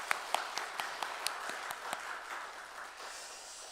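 A church congregation claps for the students during a Holy Week Saturday dawn worship service, a scattered run of distinct hand claps that fades into a soft, thinning patter.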